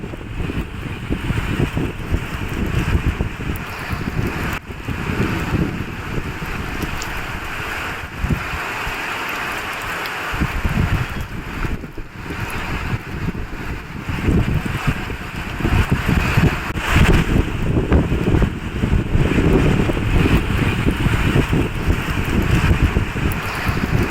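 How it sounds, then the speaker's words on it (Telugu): Gusty wind and rain across Hyderabad produce a continuous loud roar and rush of wind buffeting the microphone, steady for the whole stretch with surging gusts. "గ్రేటర్ లోని పలు చోట్ల ఈదురు గాలులతో కూడిన వర్షం పడుతోంది"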